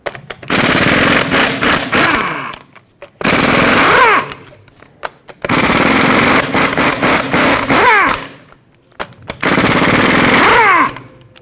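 An impact wrench rattles off the 21mm lug nuts on a Ford F-350 rear wheel in four loud, sustained hammering bursts separated by brief pauses, close up and with no talking.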